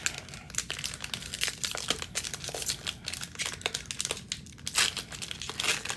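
NBA Hoops 2020-21 blaster box card packs ripped open, foil wrappers crinkling and tearing in close, continuous rustling bursts with no talk.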